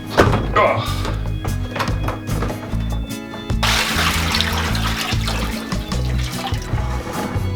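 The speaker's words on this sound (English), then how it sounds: "so now we need to drain out all the fluid" Homebrewed cider fluid drains out of a bucket with a continuous close splashing trickle, joined by a few thunks and plastic knocks partway through.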